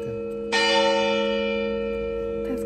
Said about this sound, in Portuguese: é o sino da igreja. Ali, ó, tá tocando.